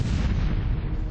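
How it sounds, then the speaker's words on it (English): A bomb goes off in a crowd, one loud, heavy blast with a deep roar that fills the short moment, with no talk. "An explosion rips the crowd apart."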